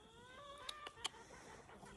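Shorty, a Bantam Cochin rooster kept with backyard egg-laying hens, gives soft, faint clucks, a few short throaty calls that rise briefly out of a quiet yard.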